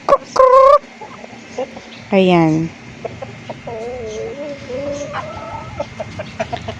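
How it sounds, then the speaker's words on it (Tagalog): Farm chickens cluck and squawk nearby, with two loud drawn-out calls early and a run of softer clucks after, while someone says a brief word. "Ayan po ang ating mga manok."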